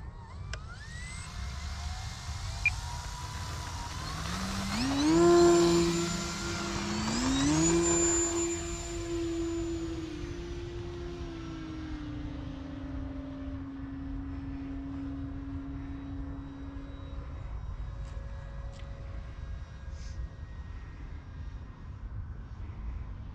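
E-Flite Timber X radio-controlled model airplanes fly at sundown, their electric motors whining and sweeping in pitch as they pass close, then settling into a fainter, steady drone in the distance.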